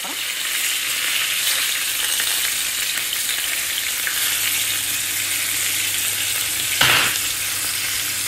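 Chicken breast frying in butter and garlic in a pan, a loud continuous sizzle and crackle up close with a low hum underneath and one sharp clatter near the end, no voices.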